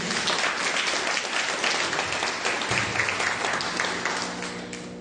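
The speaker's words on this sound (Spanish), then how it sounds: "Vamos a darle un aplauso a Miguel." Audience applauds for Miguel at a gathering, sustained even clapping that carries on for several seconds, moderately loud, easing off slightly toward the end with no talk over it.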